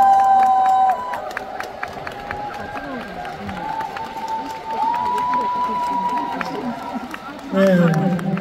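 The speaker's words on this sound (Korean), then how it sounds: "박수 부탁드립니다" A trot concert audience in Daejeon claps and cheers in a roaring, sustained wash of crowd noise, with a tonal hum underneath and a louder swell at the start and again at the end.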